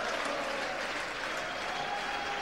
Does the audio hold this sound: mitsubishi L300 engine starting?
no